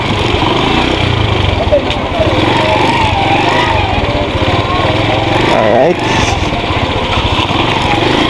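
A motorcycle engine runs loudly and continuously nearby, with a rough, droning rumble; a voice speaks briefly over it.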